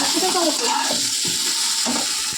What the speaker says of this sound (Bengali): দেখতেই পাচ্ছ বেগুনগুলো কিন্তু ভাজা ভাজা হয়েছে